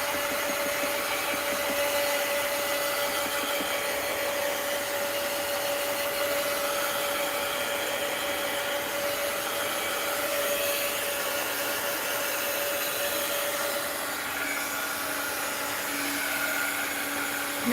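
A hair dryer blowing steadily to dry paint on an art journal page, a continuous loud whooshing roar with a steady whine, unbroken for the whole stretch and slightly shifting in tone near the end.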